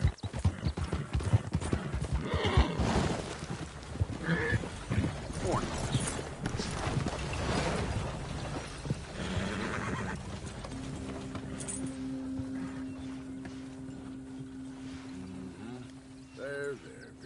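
A horse in a PS4 video game neighs and gallops, hooves pounding rapidly and loud at first before fading into a quieter stretch with a few mechanical clicks, while a voice urges it on.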